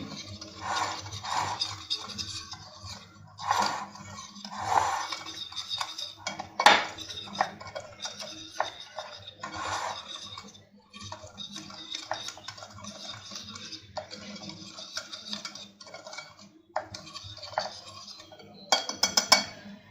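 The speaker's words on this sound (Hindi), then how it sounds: "अब हम इसे हैंड बीटर की मदद से अच्छे से एक बार मिक्स कर लेंगे।" A hand beater whirs and clatters against the bowl while mixing batter, in uneven bursts with pauses and metallic rattles, close and fairly loud; no talking.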